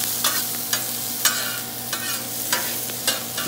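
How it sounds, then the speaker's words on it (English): Beef sizzling in a pan over low heat is stirred several times, and each sharp scrape of the utensil stands out against a continuous frying hiss. No one speaks. "Put it on low, let it simmer for a second."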